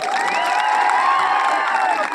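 Large outdoor political rally crowd in Gujarat cheering, whooping and applauding continuously, a dense sustained roar of many voices and claps with shrill shouts rising over it, loud and steady throughout.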